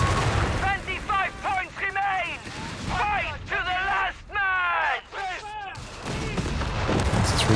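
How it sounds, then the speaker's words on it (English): Artillery-style explosions and gunfire from an incendiary bombing run in the World War II strategy game Company of Heroes 3, a 2v2 match with a Panzer III, booming repeatedly under constant excited commentary. "Brings down the incendiary bombing to prevent the capture"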